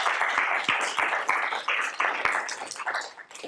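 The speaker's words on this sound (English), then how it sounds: "let's clap" A seminar audience claps at the end of a technical talk: a short, fairly sparse burst of hand claps in a lecture room.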